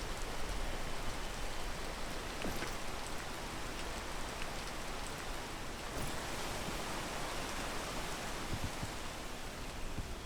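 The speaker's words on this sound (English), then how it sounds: "I think we're gonna let the rain pass" Steady rain falls in a video game as a dense, even hiss of drops that continues unbroken throughout, with no voices over it.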